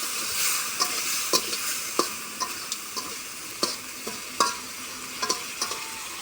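Pigeon meat frying in a covered pan for a curry, a constant soft sizzle broken by sharp clicks and scrapes of a spoon stirring against the metal at irregular intervals.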